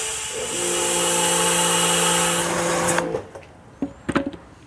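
A Kärcher pressure washer runs at roughly 2000 PSI, a loud steady motor-and-pump whine with a tonal hum that holds for about three seconds, then cuts off, leaving a few scattered knocks and clicks.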